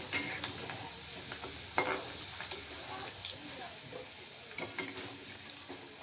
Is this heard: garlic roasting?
yes